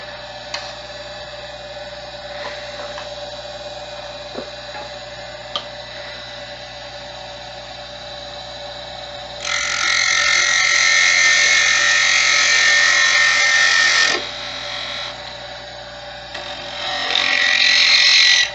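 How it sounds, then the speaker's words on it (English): Parting tool cutting a workpiece on a lathe: a steady motor hum, then a louder high-pitched cutting whine in two bursts as the tool engages, with no talk. "And then use my parting tool to cut it to length."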